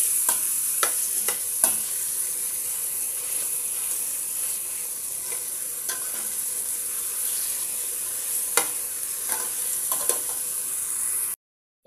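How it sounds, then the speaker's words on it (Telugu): A mixture frying and being stirred in a pan, with a steady bright sizzle throughout and occasional sharp scrapes and taps of the spoon against the pan, close and continuous until an abrupt cutoff. "దీన్ని 2-3 నిమిషాలు బాగా కలబెట్టేసుకోండి."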